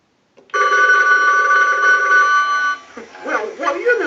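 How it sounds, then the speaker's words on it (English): Mickey Mouse animated novelty telephone rings with a loud, steady electronic bell tone for about two seconds as an analyzer sends a ring cycle, then cuts off into brief speech-like chatter. "send a ring cycle like you were getting a call"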